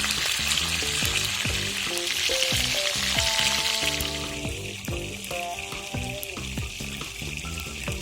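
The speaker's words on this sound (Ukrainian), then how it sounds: "Черевинка обсмажується вже гарненький колір. Так, з усіх сторін." Pork belly, for a dish cooked in beer, fries in a pan with a loud, continuous close-up sizzle and spitting crackle, with a few clinks of utensils.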